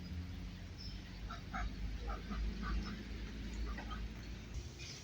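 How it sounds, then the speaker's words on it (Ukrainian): Ducks quack in short scattered bursts against a low, rumbling park background, faint and somewhat distant. "Качечки прийшли."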